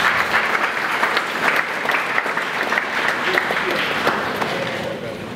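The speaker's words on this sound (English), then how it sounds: "Shall we please clap for them?" An audience at a public forum applauds a list of participating schools, sustained dense clapping from a crowd throughout, slowly tapering near the end.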